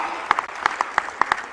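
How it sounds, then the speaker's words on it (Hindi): An audience applauds at a speech, but only thinly: sparse, scattered claps over a brief stretch rather than a full ovation, with faint voices in the room. "जोरदार ताली बजा के बताओ"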